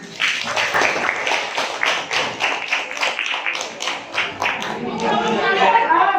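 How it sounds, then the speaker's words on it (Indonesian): A classroom of students claps for a student group, with uneven hand claps and spoken voices running through before a brief murmur of chatter at the end. "Beri tepuk tangan."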